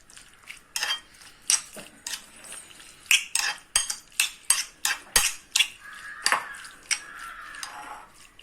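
A spoon stirs chicken pieces coated with whole mix powder in a bowl for crispy popcorn chicken, making a steady run of sharp clinks and scrapes at a fairly even rhythm, close and with no talking.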